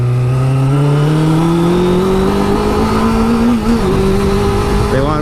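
A motorcycle engine runs loud and close, its pitch climbing steadily as it revs up, dipping briefly, then rising again.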